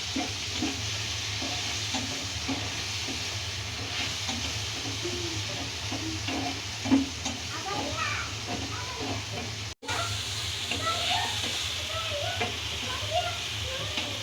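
Soft, steady sizzle of tomato pieces frying in a pan, with occasional stirring clinks and a faint low hum in the background.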